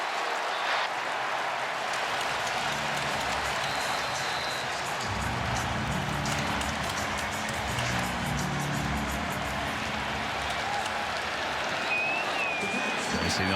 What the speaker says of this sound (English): And the crowd gets louder.